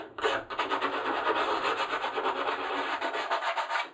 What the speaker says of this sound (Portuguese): Em seguida, lixei as peças de madeira.